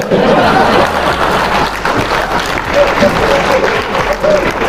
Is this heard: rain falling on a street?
no